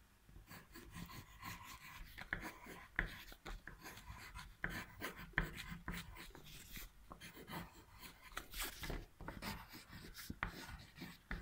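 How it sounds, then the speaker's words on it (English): Pen or pencil scratching across paper as a name is written by hand in a drawing session, a close, quiet run of short rasping strokes with brief pauses between them, no talking. "write his name"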